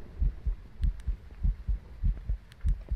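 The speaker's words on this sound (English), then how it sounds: "I'm hearing heartbeats." A steady video game heartbeat thumps in deep, muffled double pulses, repeating roughly every half second and close and prominent, over a faint hum.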